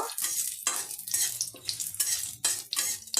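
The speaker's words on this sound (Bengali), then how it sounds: "কাজু কিচমিচটা হালকা করে ভেজে নেব" Cashews and raisins fry lightly in a pan for tomato chutney, heard as loud close bursts of sizzling and scraping in an uneven rhythm of stirs, with short quieter gaps between, and no talking.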